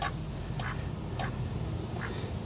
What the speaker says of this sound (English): I've got a duck right there.